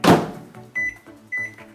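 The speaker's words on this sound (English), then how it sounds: "we're gonna melt this in the microwave" Microwave oven melting butter: a thud at the start, then a humming run with two bright beeps, each beep followed by a short pause in the hum, close and fairly loud with no talk.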